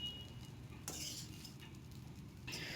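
Palak spinach rice being mixed with masala in a pan over a low flame, a soft continuous sizzle with a couple of sharp spoon scrapes and clinks against the pan.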